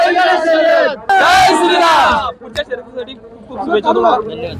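A crowd at a bullock cart race near Panvel roars and shouts in celebration. Loud overlapping yells come in bursts, then ease into excited chatter and scattered whoops.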